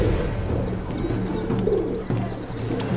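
Racing pigeons coo softly and steadily nearby, a low repeated warbling that runs throughout, with a faint higher bird call drifting above it.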